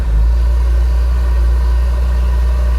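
A six-cylinder car engine runs at a steady idle, loud and close, with a deep, even rumble throughout.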